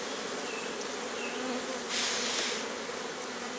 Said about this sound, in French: Je leur reglisse ce cadre-là, qui est plein d'abeilles.